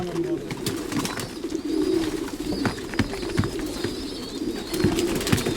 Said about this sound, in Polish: Młode gołębie.